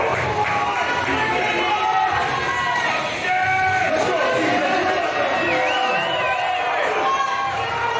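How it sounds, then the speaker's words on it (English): A large crowd cheering and whooping at a strongman national record lift, loud continuous roar with overlapping shouts and excited voices throughout, dipping briefly before surging again. "Hell of a crowd there."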